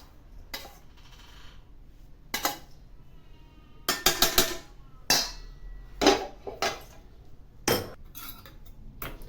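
Roasted maida flour is scraped out of a kadhai pan into rava for rava laddu, giving scattered sharp metallic clinks and scrapes of a spoon on the pan, close and separated by quiet gaps.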